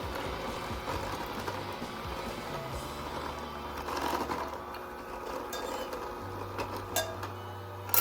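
Electric hand mixer beating cheesecake batter at medium speed, a steady motor whir with a low hum running continuously and rattling faintly against the bowl, close and moderately loud with no voices.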